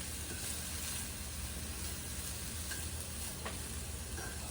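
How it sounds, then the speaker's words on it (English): Shredded carrots sautéing in a pan give a soft, steady sizzle with faint ticks, quiet and close, with no talking. "Then we're going to start to saute my carrots"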